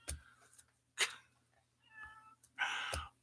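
A pet cat meows several times close to the microphone, with short and longer calls separated by quiet gaps, the last one drawn out and the loudest.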